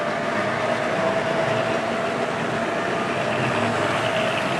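A Hornby Triang DMU 101 model railway unit runs steadily along its track, a continuous close rolling rumble with a faint motor whine and no pause for the full few seconds.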